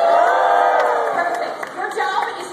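Studio audience at a Fear Factor taping cheers and whoops loudly, a continuous crowd roar with voices overlapping, easing slightly toward the end.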